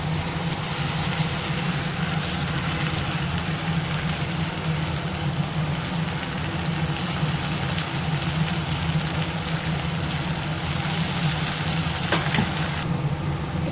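Ground masala paste sizzles steadily in a pan of well-sautéed onions while an egg gravy cooks, a continuous close frying hiss with faint stirring scrapes throughout and no talking.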